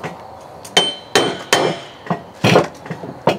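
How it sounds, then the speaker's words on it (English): A hammer strikes close up in sharp, irregular blows, about eight in all, each one a hard crack with a brief ring in a quiet workshop, used in place of a file. "I'm hammering instead of filing."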